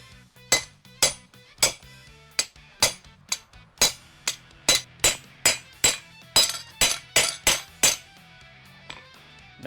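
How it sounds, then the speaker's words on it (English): Hand-held chisel struck repeatedly with a hammer while cutting hot steel on an anvil at a forge, about twenty sharp ringing metallic blows in a steady, fairly quick rhythm, close and loud with no talk. "why are you cutting this out with a chisel by hand at the forge or at the anvil?"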